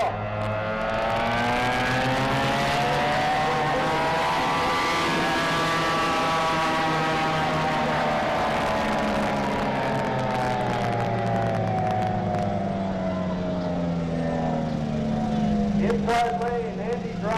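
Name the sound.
racing boats starting a heat on Lake Tholocco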